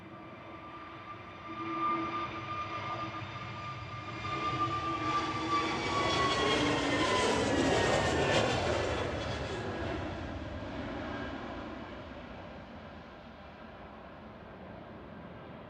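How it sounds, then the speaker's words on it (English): An EasyJet Airbus A320neo, about five years old, takes off from Manchester Airport bound for Hurghada, its engine roar swelling to a loud peak with rising whine and slowly fading as it climbs away, with no voices. "Next up for departure is EasyJet heading off to Hurghada"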